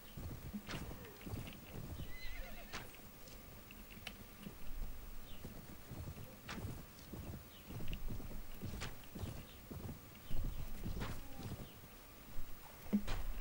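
Horse hooves clip-clop in Mount & Blade Warband 1257AD, quiet uneven hoofbeats with a whinny and sharp intermittent clicks across a battlefield.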